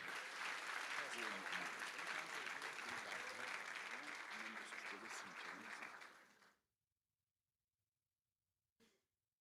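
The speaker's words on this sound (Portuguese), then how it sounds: "e você aplaude ao Rei dos Reis." A church congregation applauds in praise during a service, loud and sustained for about six seconds before cutting off into silence, with a short faint sound near the end.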